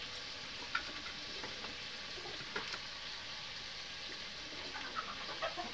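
Garlic, ginger and onion frying in a pan for a chicken curry, a steady soft sizzle with a few sharp pops and light scraping, no speech.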